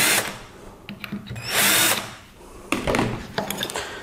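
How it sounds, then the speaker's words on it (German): A power drill with a center drill bit bores into hinge cup holes in cabinet panels, two close, loud bursts of whining spin separated by short pauses, with a few taps and handling clicks. "Wirklich mit dem Zentrierbohrer nur ankörnen, nicht tief reinbohren,"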